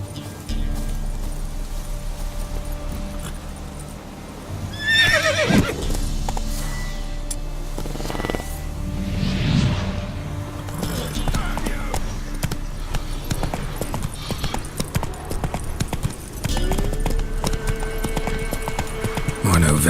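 Steady hoofbeats of galloping horses with a brief whinny in the video game The Witcher 3, layered with background music and game sound effects throughout.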